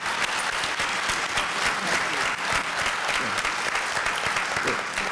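An audience at a town hall meeting on domestic violence applauds in a loud, dense round of clapping that holds steady for about five seconds, with faint voices underneath.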